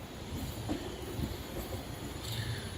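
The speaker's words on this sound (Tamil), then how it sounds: "இந்த ட்ரெயின் மைசூர் வரைக்கும் போகுதுங்க." The Shirdi–Mysuru Express passenger train runs on rails between Hospet and KSR Bengaluru, a steady close rolling rumble with faint wheel squeal and clatter throughout.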